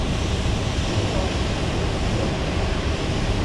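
Artificial rain sprays steadily across a test track with a side gust of wind, a dense, even hiss of falling water and blowing air with no breaks.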